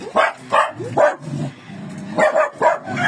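A dog barks repeatedly at close range, a quick series of sharp barks with a short pause before several more.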